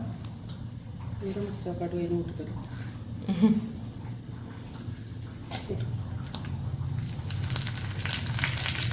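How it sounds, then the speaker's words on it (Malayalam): Hot oil sizzles steadily with scattered small pops and crackles of mustard seeds, close by, while a person talks over it. "കടുക് നല്ലോണം പൊട്ടുന്നുണ്ട് കേട്ടാ"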